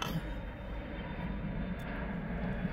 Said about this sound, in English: Ooh, airplane.